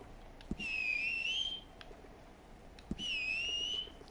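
A high, steady whistling tone sounds twice, each note lasting about a second and starting with a small click. A faint background hum fills the gap between them.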